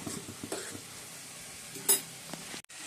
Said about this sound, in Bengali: ফুলকপিগুলো দিয়ে দিয়েছি মশলার মধ্যে, ভালো করে কষিয়ে নিচ্ছি।